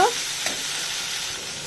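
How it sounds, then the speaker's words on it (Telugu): Continuous sizzle of spices frying in hot oil, close up, with a faint clink of stirring near the start. "ఇట్లా పోపు వేసేసుకోవచ్చు"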